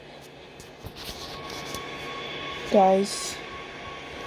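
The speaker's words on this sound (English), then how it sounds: "guys, this is the New York subway." A New York subway train in a train simulator game rumbles steadily, with a short bright tonal chirp partway through, while someone talks over it.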